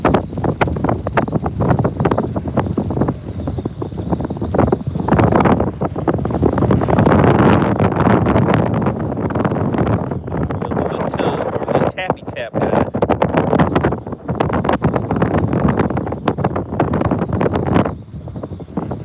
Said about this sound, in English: The wind is picking up out here